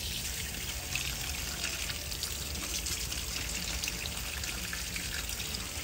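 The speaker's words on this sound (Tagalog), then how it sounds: "Lalagyan na natin ng tubig yan." Water pours into a cooking pot in a continuous hissing, splashing stream, steady and fairly close, with no talk.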